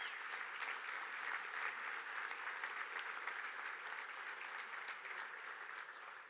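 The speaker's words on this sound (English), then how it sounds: "Let's give Jan a round of applause for doing this" Steady audience applause at a 2017 award ceremony, a dense even patter of many hands that stays loud throughout and eases slightly toward the end.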